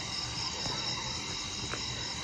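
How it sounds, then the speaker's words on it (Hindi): Dense forest ambience in the Corbett area at a homestay, with a continuous shrill chorus of crickets and insects forming a steady high buzz, mid-distance and fairly soft. "ये जंगल की आवाज़ है."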